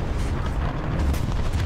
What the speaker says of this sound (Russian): Мы одновременно выстрелили.